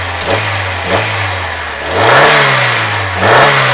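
A high-mileage car with 319,000 km, just given a new fuel filter and a revived battery, idles and is revved repeatedly, its engine note rising and falling in several loud, close blips with no talking.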